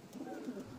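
Pigeon cooing in a soft, low burst lasting under a second, close by and alone with no talk over it.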